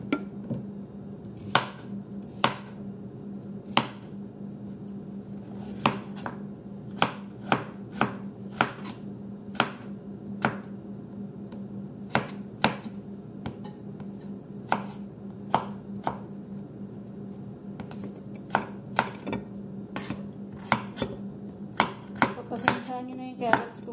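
A knife chops carrots on a cutting board for a pansit canton dish, giving sharp, close thuds at an irregular pace that speed up into quick bursts near the end, with a low steady hum underneath.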